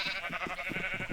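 Sheep in Minecraft bleating in a rapid run of several short, nasal, wavering cries, close and loud, with no talk.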